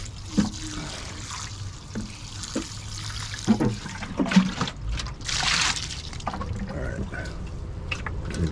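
Water splashes and trickles as a jug is emptied outdoors, with uneven gurgling pours, knocks and a louder rushing burst midway, all close to the microphone.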